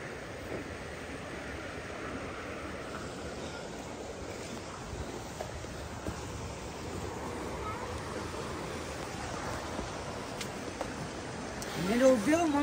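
Continuous rushing flow of the Nikas river stream in Surkhet fills the whole stretch, even and close, with a slight swell near the end and no clear speech.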